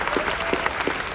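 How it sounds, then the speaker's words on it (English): A studio audience breaks into a short burst of dense applause, many hands clapping together at an even, fairly close level. "Give him a big round of applause."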